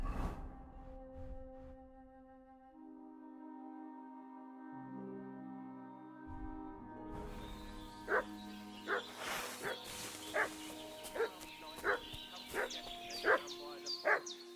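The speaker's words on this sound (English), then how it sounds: "What's that dog making such a fuss about?" Dog in Kingdom Come: Deliverance II barking in a series of sharp, repeated yelps from mid-distance, starting after a stretch of quiet tones and ambient music and coming in regular bursts through the second half.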